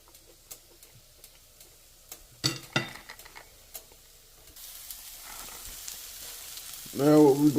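Onions sizzle faintly in a pan, with scattered ticks and scrapes of a utensil stirring and separating them, plus a louder clatter near the end.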